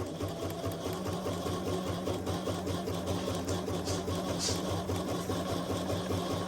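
A sewing machine stitches zigzag with an applique foot on a quilt block, a steady close mechanical whir with rapid rhythmic needle chatter running throughout without pause.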